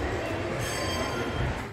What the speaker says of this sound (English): So, there's a train in there.